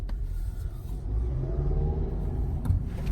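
A Kia Optima car accelerating, its engine a steady mid-pitched rumble that builds slightly as speed picks up, heard from inside the cabin with no voices over it.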